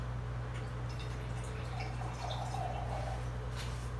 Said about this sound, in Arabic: وهجيب شوية مية بسيطة قوي عشان الطماطم بتاعتي تنضرب.